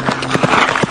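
Horse hooves clip-clop in steady, evenly spaced beats in an Indonesian radio drama, with a faint voice and a held tone underneath.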